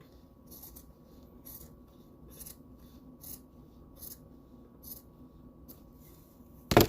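Scissors cut through Lycra stretch fabric wrapped around a tumbler cup, a steady series of about ten crisp snips in an even rhythm, close and quiet, ending with a louder thump.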